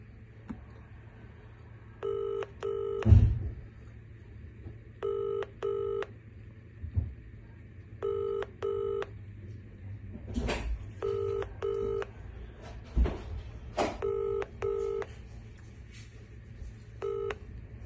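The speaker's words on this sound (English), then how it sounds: "Nick, I've tried to call you now multiple times and you are not answering my phone call" A phone call to a Vodafone line, with short pairs of keypad dialing tones repeating at intervals over a faint steady hum, broken by a few sharp clicks and thumps.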